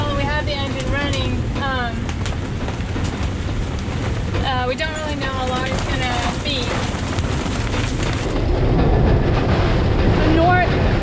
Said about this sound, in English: The wind is gusting up to, I don't know, unknown numbers